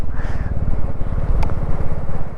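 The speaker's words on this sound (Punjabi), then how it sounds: "ਆ ਚੱਲੇ ਆਪਣਾ ਬੁਲਟ" A Bullet motorcycle engine thumps with a fast, heavy, steady beat close by, rumbling low and loud throughout, riding at the Atal Tunnel south portal.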